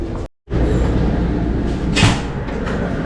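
A heavy door at a restaurant in Sinaloa, Mexico, swings with a brief thud and cut-off near the start, followed by steady loud room and street noise with a faint creak or clatter midway.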